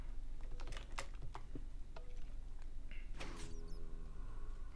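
Computer keyboard typing: a quick run of sharp key clicks over steady low background hum, with a short whirring mechanical sound partway through.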